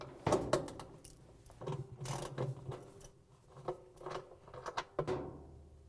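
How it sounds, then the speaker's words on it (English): A socket ratchet loosens a bolt on a Frigidaire/Electrolux washer, giving quiet, close, uneven bursts of clicking as the handle swings back and forth. "we can grab our socket and ratchet and reach down and take the bolt off"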